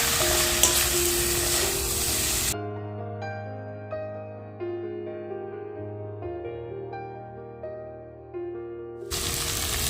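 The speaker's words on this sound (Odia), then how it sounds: "ନେକ୍ସଟ ଆମେ ପୂର୍ବରୁ ଫ୍ରାଏ କରି ରଖିଥିବା ଭେଣ୍ଡିକୁ ପକାଇ ନେବା। ଏହାକୁ ଭଲ ଭାବରେ ଆମେ ଏବେ କଷି ନେବା।" Pre-fried okra hisses and crackles as it is stir-fried in a pan. The loud sizzle drops out into soft background music, then returns briefly at the end.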